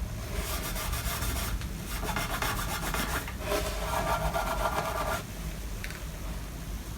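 A cloth rubs String Zone varnish cleaner and polish over the top rib of a violin, a close, continuous scratchy swishing in back-and-forth strokes that fades slightly near the end.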